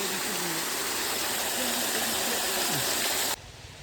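Water pours down a waterfall at a scenic outdoor spot, a broad steady rushing roar close by that cuts off abruptly near the end, leaving quieter background.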